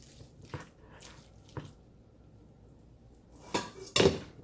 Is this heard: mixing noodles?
yes